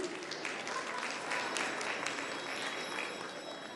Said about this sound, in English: Please, maximum of applause for Paul Pogba.